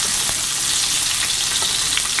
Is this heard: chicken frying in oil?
yes